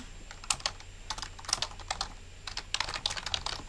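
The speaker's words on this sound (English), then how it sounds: "the typing would become part of it. Like the actual sound of the typing." Keys clatter on a computer keyboard in close, irregular bursts of rapid clicks with brief pauses between, heard alone without any talk.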